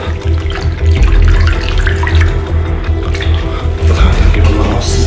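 Tap water runs steadily and loudly into a sink while found cartridges are washed under it, with splashing and clattering throughout.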